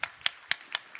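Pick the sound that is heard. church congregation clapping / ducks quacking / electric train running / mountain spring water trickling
church congregation clapping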